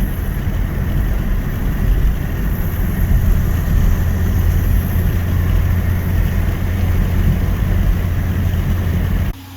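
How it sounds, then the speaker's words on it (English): A deep 5.7-litre Hemi V8 engine in a 2016 Dodge Charger R/T rumbles steadily for about nine seconds, low and continuous with a broadband exhaust roar, then cuts off abruptly at the end. "It sounds great, and that exhaust sounds great."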